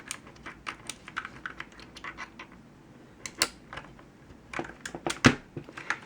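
Rapid clicky keystrokes on a Pictek TKL gaming keyboard with Cherry MX Blue switches patter unevenly close up, with a few sharper, louder key hits near the end.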